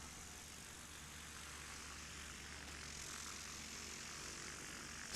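A Piper Cherokee light aircraft engine at a landing competition hums steadily and faintly at a distance, a continuous propeller drone with no talk.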